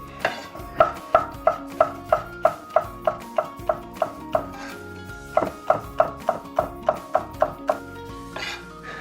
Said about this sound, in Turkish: Biberimi kestim.